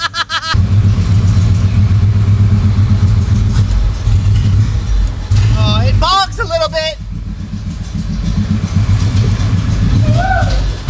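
A street-tuned car engine with a burble tune idles and revs loudly and close, the exhaust pops barely separable from the engine roar, while excited voices talk and shout over it.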